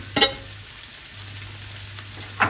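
Chicken, garlic and onion sizzle in butter in a pan, a soft steady frying hiss with two brief louder clatters of stirring near the start and end, no voices.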